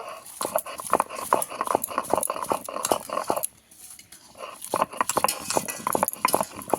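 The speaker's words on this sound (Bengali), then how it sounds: "প্রথমে শুকনো লঙ্কা বেটে নেব" Dried red chillies ground into a paste for a fish dish, producing steady rhythmic scraping and grinding strokes up close, with a brief pause midway before the strokes resume.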